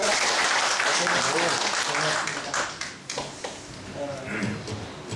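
Audience applause at a monthly operations meeting in a Korean lecture hall, a dense burst of many hands clapping that swells at the start and then thins and fades, with voices talking through it.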